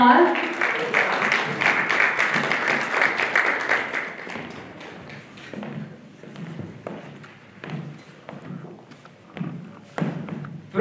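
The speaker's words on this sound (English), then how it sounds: "so give him a round of applause." Applause from the gathered mourners at a memorial prayer service in Calgary, a dense round of clapping and thuds that fills the room for several seconds, then thins into scattered claps and shuffling.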